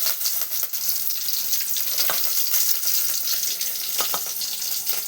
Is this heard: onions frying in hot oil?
yes